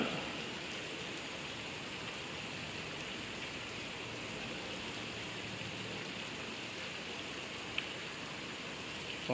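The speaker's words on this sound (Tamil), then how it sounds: "நல்ல ஸ்பீடு மழை" Heavy, fast rain pours at the foot of the Palani hill, a dense unbroken hiss of downpour that holds steady and loud throughout with no voices.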